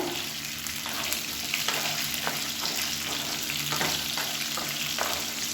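Tomatoes sautéing with onion and garlic in a pan for an idli and dosa side dish give off a steady, close sizzling fry. Soft spoon stirs break through it every second or so.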